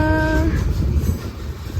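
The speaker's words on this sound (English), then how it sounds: "Look at these boxcars." Freight train boxcars rolling past close by, a steady loud rumble and clatter of railroad cars with a brief tonal squeal or horn-like note at the start.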